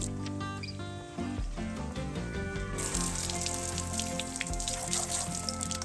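Used truck bumpers, crusty and stained with cloudiness and rust spots, being washed with running water, a steady hissing spray that grows broader and louder partway through, with no talking.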